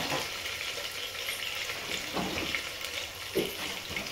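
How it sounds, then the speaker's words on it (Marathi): Potato pieces frying in hot oil for masala pulao make a soft, steady sizzle with a few faint stirring clinks, quiet and close, without any talking. "आपण ह्याच्यामध्ये बटाटा सुद्धा टाकायचा आहे तेलातच"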